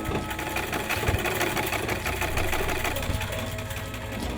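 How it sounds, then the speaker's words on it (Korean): A communal sewing machine runs in a tribal village hall, giving a loud, continuous, rhythmic mechanical whir close by throughout, with no one talking. "바로 재봉틀인데요."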